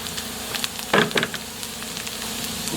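Pork belly hits a hot pan of translucent onions and sizzles with a steady crackle, with a brief louder burst of spitting fat early on and faint stirring scrapes.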